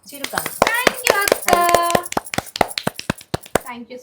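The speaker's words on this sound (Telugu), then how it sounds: "క్లాప్స్ అందరూ, చప్పట్లు. చిటికలు." A small group claps and snaps fingers in a quick, uneven burst of sharp hand hits, close by, mixed with voices talking and cheering at a Diwali gathering.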